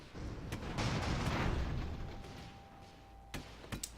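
Cannon fire from airships in a sky-battle strategy game: a broad rumbling boom builds and fades over the first seconds, followed by several sharp, separate blasts near the end.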